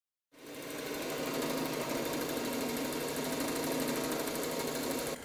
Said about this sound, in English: make that first cut on that bevel right there